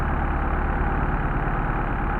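A Mercedes 190SL fitted with Solex carburetors idles cold at about 800 to 900 rpm, a steady, loud, continuous low engine drone with no breaks.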